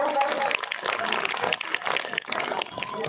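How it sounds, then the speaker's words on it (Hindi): A live audience breaks into clapping to welcome a performer, uneven and somewhat sparse applause heard under a voice talking over it. "तो एक बार जोरदार ताली से स्वागत"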